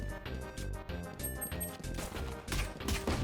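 Gunfire from Valorant rattles in quick, rhythmic bursts at moderate loudness, blended with in-game effects and tones, and no one speaks.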